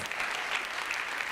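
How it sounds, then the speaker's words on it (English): An audience clapping for itself at a motivational women's event, a brief, full burst of many hands applauding at close range with no talking over it. "Give yourselves a round of applause."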